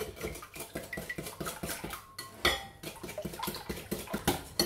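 Batter with a sachet of vanilla sugar mixed by hand in a bowl, a rapid, rhythmic clatter of utensil against the bowl, close and continuous with a brief pause midway.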